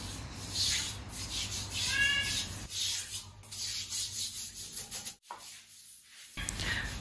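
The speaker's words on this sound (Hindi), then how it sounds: "ये कपड़ा धोने का ब्रश ऐसे भी मैं यूज़ करती हूँ टाइल्स घिसने के लिए" A clothes-washing brush scrubs bathroom tiles in steady, close back-and-forth strokes with a rough bristly rasp, broken by a short pause near the end.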